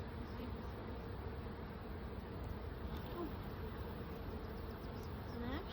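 Honey bees buzz steadily during a spring hive inspection, a dense continuous hum with close individual bees passing by, faint and unbroken throughout.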